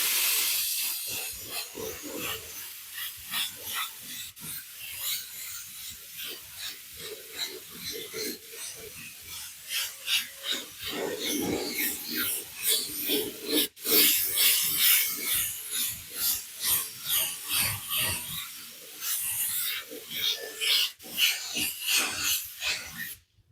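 A spray gun lays a light coat of glue for automotive gold leaf work, producing close hissing bursts in an irregular on-off rhythm of short passes, with brief clicks between them.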